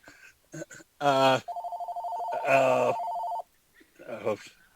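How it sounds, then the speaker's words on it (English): An office telephone rings with a warbling electronic trill in two bursts, loud and close, while someone talks over and between the rings. "I don't have a way to mute the darn phone"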